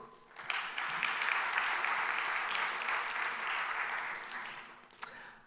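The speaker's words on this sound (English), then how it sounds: "maybe we can give them all a round of applause" A room full of people applauds after a speaker's call at a regional highlights event, the dense steady clapping swelling in quickly, holding for several seconds, then tapering off with a last few claps.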